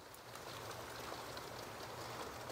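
Steady rain falls over a home vegetable garden, a dense, even hiss of drops on leaves and soil with no breaks, fairly close and constant throughout, no voices.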